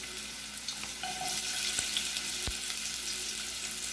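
Chopped onion frying in oil in a pan while rice is being prepared, a steady soft sizzle with a few faint clicks and scrapes, close by with no talking.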